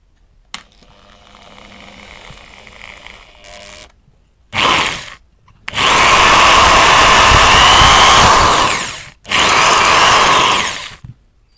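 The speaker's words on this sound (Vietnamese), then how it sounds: "Dùng cái khoan để khoan cái này ra." A power drill bores out the pins of a circuit breaker, with a quiet rattle first, then a short burst and two long, loud, grinding runs separated by brief pauses.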